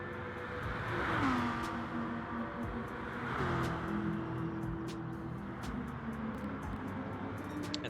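Race cars lapping Spa-Francorchamps in a sim racing video game, engines revving up and easing off in repeated sweeps as cars pass, steady and fairly loud with no talking.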